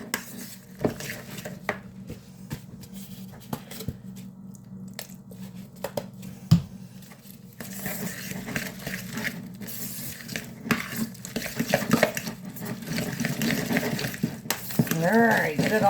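A utensil stirs homemade salsa with ketchup in a pot, giving irregular clinks and scrapes against the metal, close and moderately loud, with busier clattering in the second half.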